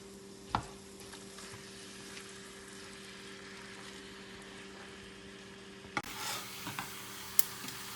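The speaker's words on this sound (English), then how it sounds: "he's letting the meat brown, keeping his hands away from the heat" Ground meat and onions brown quietly in a pan for sloppy joes, a soft low sizzle under a steady hum, with a sharp spatula scrape early on and a few clatters near the end.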